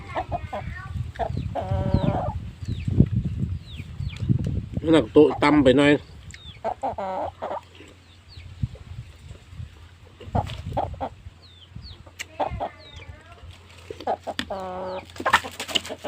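Chickens in a coop clucking and squawking close by in repeated bursts, mixed with people talking and a low steady hum in the background.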